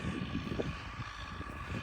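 An MTZ 892.2 tractor pulls a 14 m Technopol harrow across a field, its engine droning steadily and fairly close for the whole stretch, with no talk.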